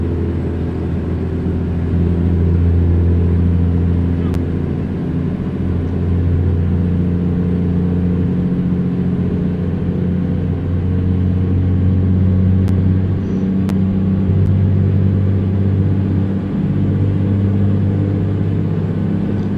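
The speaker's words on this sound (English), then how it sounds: "this truck is trying its hardest to almost drive the speed limit" A heavy truck in American Truck Simulator labors along near the speed limit, its engine a loud, unbroken low rumble that holds steady throughout with no voices.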